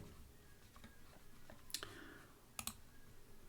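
Two sharp, close computer mouse clicks, spaced about a second apart, over a faint hum in a quiet room.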